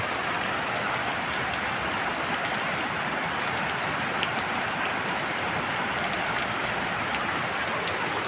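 Rain falls steadily on a rainy day, making a continuous, even, broadband hiss with no voices and no breaks.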